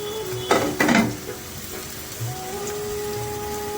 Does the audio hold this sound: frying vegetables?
yes